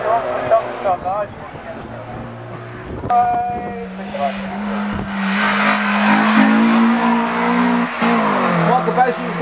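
A Honda Civic race car at a speed event at a reservoir accelerates past, its engine note rising loudly over a commentator's voice on a public address system, with tire squeal in the mix.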